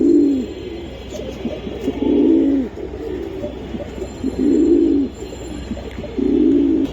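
Pigeons, Giribaz tumbler pigeons offered for sale, coo in repeated low throaty bursts close by, about five rolling phrases spaced a second or two apart over a faint steady background.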